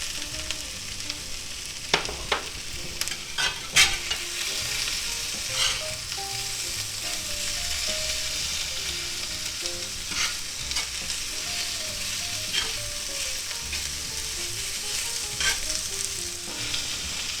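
Ham steak sizzles and crackles steadily in a hot pan for a grilled sub with onions and green peppers. A spatula scrapes and clicks now and then, close up and without talk.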